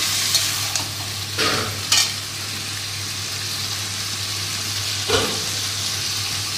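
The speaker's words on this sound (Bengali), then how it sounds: "এবারে মশলাটা এর সাথে ভাজা ভাজা হবে" Cumin and coriander paste with green chillies frying in a pan for a Bengali hilsa-head and Malabar spinach dish, a steady soft sizzle with a few brief scraping stirs, close and without talk.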